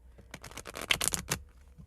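A deck of self-reflection cards is shuffled by hand in a dense burst of papery flutters lasting about a second, close and fairly loud, with no talking.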